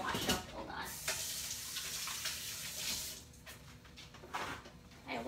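A kitchen tap runs while washing up, giving a steady splashing hiss of water with uneven spatters, moderately close and fairly quiet throughout.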